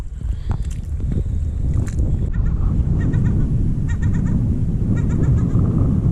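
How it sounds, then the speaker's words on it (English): Seagulls with young call noisily on a beach, with harsh, repeated squawks and honks over a steady roar of wind and surf, close and insistent. "So I'm being somewhat harassed by seagulls. They've got youngsters, and they do like to make this racket to let you know that they're watching you."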